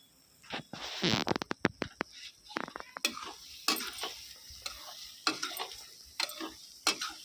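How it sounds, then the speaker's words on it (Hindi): Khoa (mawa) is roasted in a pan for pedas, a Janmashtami sweet, and stirred as it cooks. Quiet, irregular scraping and clicking strokes of a spoon against the pan come in bursts over a faint, low sizzle. "अभी मैंने ये मावा रखा है मावा भूनने के लिए"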